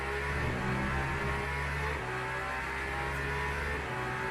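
A Ferrari race car in Le Mans Ultimate, racing at Fuji, drones past with a loud, steady engine note that shifts in pitch partway through, its harmonics holding close and continuous.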